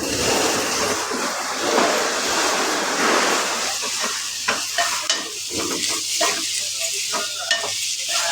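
Papdi flat beans are tipped into a hot oiled pan and stirred, giving a loud, close burst of sizzling frying that settles into steady crackle with repeated scraping stirs and no talk.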